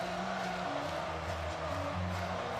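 Stadium crowd roaring steadily in a Washington versus Boise State college football video game, a dense continuous wall of cheering at moderate loudness with no speech on top.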